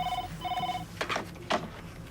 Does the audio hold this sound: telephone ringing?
yes